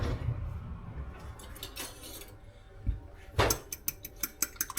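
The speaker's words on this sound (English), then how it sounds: "2 eggs. Let's go ahead and get those cracked in there." Farm fresh eggs are cracked into a bowl for French toast, a handful of sharp taps and clinks against the dish, close by and fairly quiet, with no talk during them.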